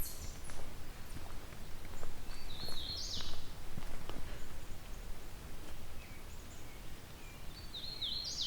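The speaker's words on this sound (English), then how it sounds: "Also heard a great crested flycatcher." A great crested flycatcher calls along a rural townline road, with two or three short, rough whistled notes at moderate distance over footsteps and light outdoor background noise.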